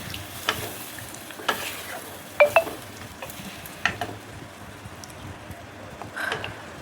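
Duck egg curry simmering in a pan after water goes in, a continuous close bubbling sizzle broken by several light clinks and scrapes of a utensil against the pot.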